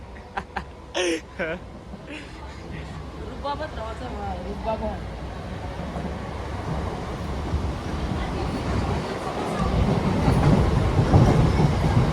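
A train runs along the rails with a rumbling, rattling roar that builds louder toward the end, heard from inside while people talk over it early on.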